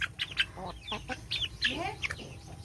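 Feather-footed chickens cluck close by in a quick run of short, rising calls over a faint steady background hum.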